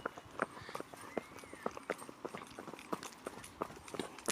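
Rhythmic clip-clop of horse hooves on a hard road, steady sharp knocks at a trotting pace, fairly close.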